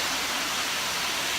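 A city waterfall roaring as a steady, dense wash of falling water, loud and unbroken with no voices.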